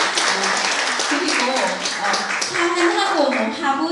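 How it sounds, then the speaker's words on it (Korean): Audience clapping at a poetry reading honoring an invited poet, a steady patter of hands filling the room for several seconds, with some voices mixed underneath. "큰 박수 한번 쳐주시겠습니다."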